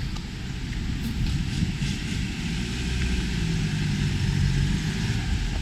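A Toyota pickup truck drives onto a trailer outdoors, its engine a steady low rumble that builds slightly toward the end, with no one speaking.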